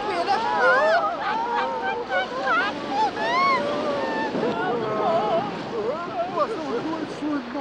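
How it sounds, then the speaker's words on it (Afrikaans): Large ocean waves in an animated series roll and crash in a constant surging roar, heard under excited, overlapping character voices throughout. "Kyk hoe groot word die golwe nou."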